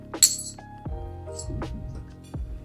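Silver dollar coins clink as they pass from one hand to the other: a bright metallic ring at the start, followed by several softer clinks and light rattles, close and quiet with no speech.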